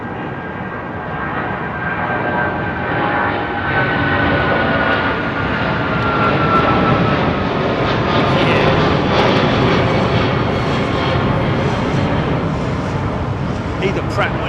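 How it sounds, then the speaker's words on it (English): An American Airlines Boeing 777 with big twin engines roars loudly and continuously at London Heathrow, a dense sustained rumble with a faint whining tone drifting upward, while a person talks over it. "This is an American 777."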